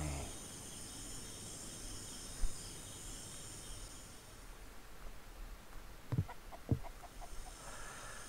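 Chickens cluck faintly in the survival game Mist Survival, a few soft scattered clucks over a steady hiss of insect-like ambience, no talking.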